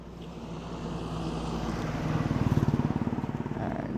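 A motorcycle idles by a highway at sunset on its side stand, a steady low engine rumble with pulsing throb growing slightly louder before the key is switched off.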